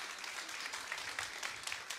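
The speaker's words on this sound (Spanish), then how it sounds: "El aplauso, ¿no?" An audience at a university sustainability report presentation claps in a dense, even burst of applause, moderately distant and with no voices over it.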